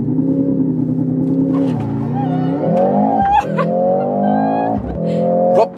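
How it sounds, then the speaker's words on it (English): A Mercedes GLC63 AMG SUV launches hard under launch control, its engine climbing loudly through several rising pulls with brief dips at each gear shift, heard from inside the cabin. "the quickest, the most powerful SUV Mercedes has ever built. Everyone ready? Launch control, acceleration,"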